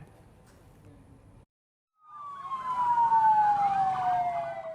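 After a short quiet gap, an ambulance siren wails with a falling tone, rising in loudness as it approaches, following a brief stretch of low background noise, in Purwakarta, Indonesia.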